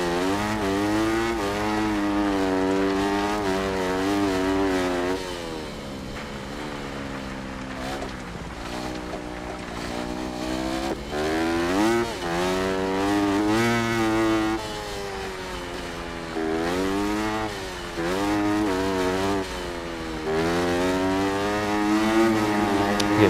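Motorcycle engine in the Monster Energy Supercross 6 video game, held at high revs in top gear with rising and falling pitch sweeps as the throttle shifts, loud and steady for the whole stretch.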